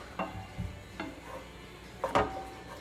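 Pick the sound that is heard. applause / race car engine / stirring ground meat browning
stirring ground meat browning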